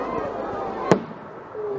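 A single sharp firework bang cracks out on bonfire night, one loud close burst midway amid background chatter and outdoor noise.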